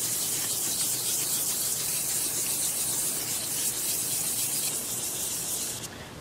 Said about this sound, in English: Now that we've finished sanding with the blue sandpaper